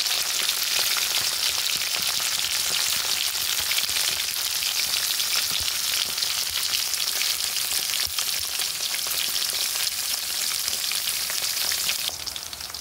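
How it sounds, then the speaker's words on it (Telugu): Okra frying in plenty of oil in a pan for an Andhra village-style chutney, a dense continuous sizzle heard up close and steady throughout, easing slightly at the very end. "బెండకాయలు ఫ్రై అయ్యాయి కదండి"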